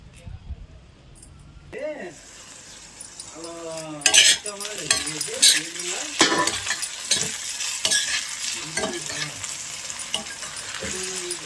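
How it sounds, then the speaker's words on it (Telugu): Softened onions sizzle in a pan as ginger, garlic and cumin paste is added and stirred in, with spoon clinks against the pot and someone talking over the frying. "ఉల్లిపాయలు అయితే చక్కగా మగ్గిపోయినాయండి. కొంచెం అల్లం, వెల్లుల్లి, జీలకర్ర పేస్ట్ వేస్తున్నాను."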